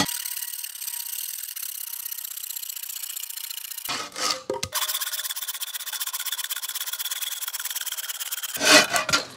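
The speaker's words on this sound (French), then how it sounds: "on va venir découper les branches qui feront les côtés de l'échelle à la bonne longueur" Wooden branches are sawn to length for the sides of a ladder: a loud, steady rasping stroke that runs unbroken, pauses briefly with a few knocks, then resumes.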